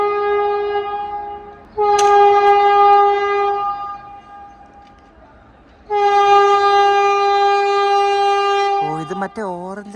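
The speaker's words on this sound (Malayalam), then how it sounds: "അപ്പോൾ ഖജുരാഹോ വന്ദേ ഭാരത് ഇപ്പം നമ്മളെ കയറി ഓവർടേക്ക് അടിക്കുക." An Indian Vande Bharat express on the Khajuraho route passes close by, sounding long, loud, harmonic horn blasts in two separate bursts, with a brief rising squeal and rolling rail noise at the end.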